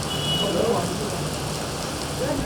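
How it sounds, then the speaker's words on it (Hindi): Heavy rain pours steadily across Lahore and Punjab as a dense, broadband hiss, loud and continuous, with faint voices underneath. "लाहौर समेत पंजाब के मुख्तलिफ इलाकों में बादल जमकर बरसे।"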